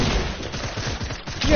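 Rapid bursts of gunfire from a shooting video game, short percussive shots crowding a low, dense fusillade with a voice talking over the action.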